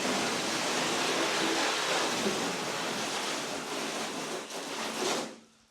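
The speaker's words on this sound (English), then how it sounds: "Here's our rinse off with the gun." A garden water hose foam gun rinses a surface with a broad, steady rushing spray that holds nearly constant, then falters briefly and cuts off at the end.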